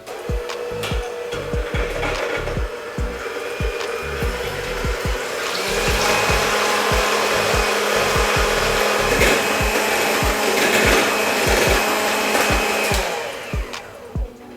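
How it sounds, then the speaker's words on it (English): Three egg whites with seasoning mix are beaten until foamy for fried salmon, making a loud, continuous whirring rush with regular rhythmic clatter against the bowl, close and with no talking. "Then I'm gonna beat them till they're nice and foamy."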